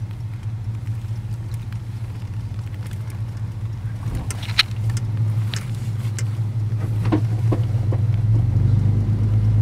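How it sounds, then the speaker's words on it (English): A 70-plus-year-old Hudson Hornet with a flathead six and twin carbs pulls away on a chilly day, its low steady engine rumble building gradually, with a few faint clicks and knocks near the car. "We're driving our 70 plus year old Hudson Hornet with a flathead six and twin carbs"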